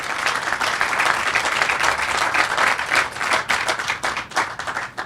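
A room full of people applauds at a transportation program check presentation, loud, sustained clapping from a sizeable audience that holds steady for several seconds.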